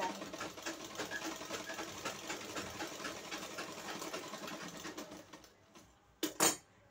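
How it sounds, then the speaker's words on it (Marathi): Sewing machine running a double line of stitching on a garment sleeve, a steady close rapid whir that continues for several seconds, then stops with a couple of brief thumps. "आपल्याला या ठिकाणी डबल शिलाई मारायची आहे आणि इथं असं पॅक करून घ्यायचं आहे."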